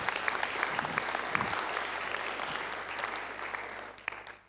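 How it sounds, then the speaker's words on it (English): Audience at an artificial intelligence talk gives a speaker a round of applause, steady dense clapping at moderate volume that holds and then tapers off near the end. "Can we please give a round of applause to John Wyatt?"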